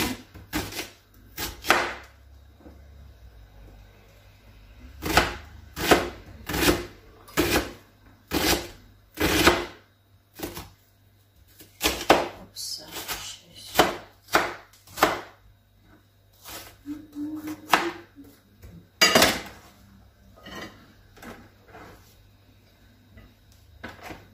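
A knife chops garlic and bell pepper finely on a cutting board, a long run of crisp, quick taps in irregular bursts with short pauses between, close and fairly quiet.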